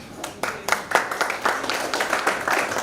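An audience applauds at the end of a talk, a steady run of close hand claps about three seconds long with a faint voice beneath.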